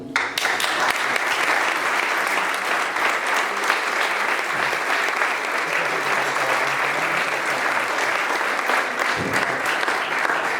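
Awards ceremony crowd gives a long, strong round of applause, a dense continuous wash of clapping that stays loud and even throughout with no talking.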